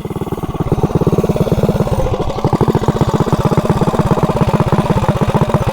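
A mini bike's small engine, fitted with a new $27 clutch, runs loud and close in a fast, even chugging pulse that holds steady throughout with no chatter.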